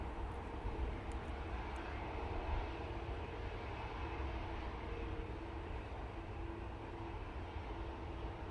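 An Aer Lingus airliner taxis at a windy Manchester Airport, its engines a steady, distant roar mixed with wind rumble, with no talk.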